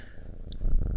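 A house cat purrs softly and close by for a brief moment, a low rhythmic rumble that swells slightly toward the end.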